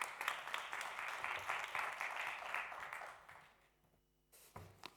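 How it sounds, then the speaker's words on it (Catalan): An audience at an industry congress on AI applauds with a burst of scattered clapping. It is fairly faint and dies away after about three seconds, followed by a brief tap. "Un fort aplaudiment per tots ells."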